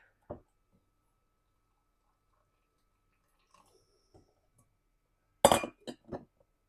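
Glass canning jars filled with minced meat clink sharply as boiling water is poured in, with one early clink, a few faint taps, then a cluster of louder glassy knocks near the end in a quiet room.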